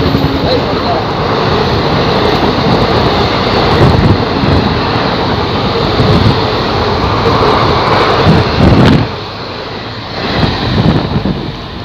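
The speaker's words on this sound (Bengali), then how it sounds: "চলে গেল ট্রেন, ট্রেন বেরিয়ে গেল।" A train passes through a station in a steady, loud rumble that holds for about nine seconds, then drops off as the train moves away, with a brief swell near the end.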